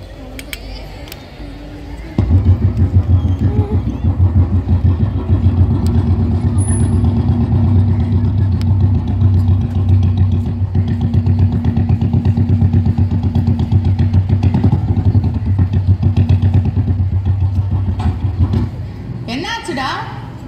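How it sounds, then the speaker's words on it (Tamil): A vehicle engine sound effect in a school Christmas play rumbles loud and steady for about sixteen seconds with a low droning clatter, then cuts off abruptly, with voices and stage noise around it. "என்னன்னு தெரியல, வண்டி ஸ்டார்ட் ஆகல."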